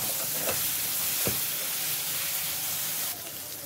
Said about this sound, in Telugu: మసాలా వేసిన తర్వాత మంచిగా కలుపుకోవాలి. వేగనిద్దాము కొద్దిగా.